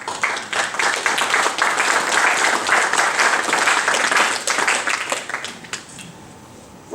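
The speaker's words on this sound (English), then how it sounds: "which I think deserves a round of applause." A seminar audience at the Inner Temple gives a loud, full round of dense applause that swells, holds steady, then thins out and fades toward the end.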